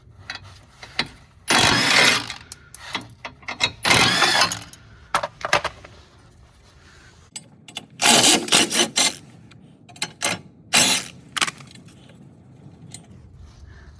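A ratchet takes the fuel filter nuts off a Renault Clio III 1.5 dCi, giving several close bursts of rapid clicking with pauses and small metallic rattles between them.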